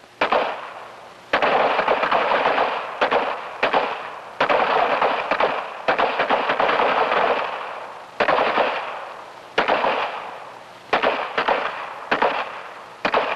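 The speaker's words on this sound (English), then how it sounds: "Ready on the right, on the left, on the line. Commence fire." Gunfire on a 1963 police firing range in Winston-Salem, North Carolina: repeated rapid bursts of sharp shots in clustered volleys with short pauses between, loud and echoing.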